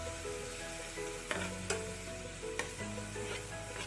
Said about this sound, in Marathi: हे थोडं लालसर कलर येईपर्यंत आपल्याला परतून घ्यायचं आहे